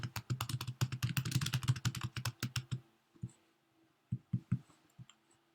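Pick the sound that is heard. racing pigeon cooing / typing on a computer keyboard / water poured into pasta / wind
typing on a computer keyboard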